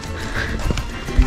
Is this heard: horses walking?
yes